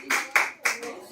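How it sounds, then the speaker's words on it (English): A few hand claps from a small group at an informal creator meetup, three distinct bursts of clapping close by in quick succession, brief and moderately loud. "Round of applause, round of applause."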